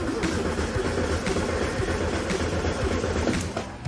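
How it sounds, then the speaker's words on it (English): A 1972 VW Super Beetle engine, not run in over 30 years, cranks over steadily with a low rumbling churn that holds for several seconds without catching. "Go ahead and crank it and just hold the key to the crank position"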